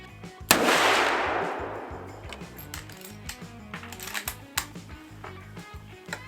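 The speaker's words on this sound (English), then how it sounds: "You fired twice and it went boom." A .30-30 lever-action rifle fires once outdoors at a shooting range, a loud crack with a long rolling decay, followed by faint mechanical clicks and clatter from handling the rifle.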